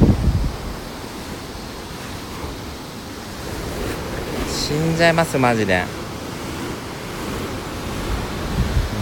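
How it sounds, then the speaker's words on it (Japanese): Rough Sea of Japan waves surging and washing ashore beside a resort, with heavy wind buffeting the microphone close by while someone talks briefly over the surf. "うわー結構波やばいねこれ、泳げないよ"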